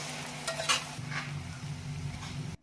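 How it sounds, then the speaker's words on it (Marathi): Grated turmeric frying in ghee in a pan after onions have browned, a steady close sizzle with a few stirring scrapes, continuous until it cuts off abruptly. "तुपामध्ये आपल्याला हळद व्यवस्थित परतून घ्यायची आहे"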